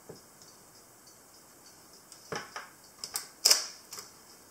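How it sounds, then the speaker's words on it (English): Exakta VX IIb 35mm camera being wound, the film advance cocking its focal plane shutter: a few soft mechanical clicks and ratchet ticks, close and quiet, building to a sharper snap near the end. "as you advance the film, it cocks the focal plane shutter and advances the film into the"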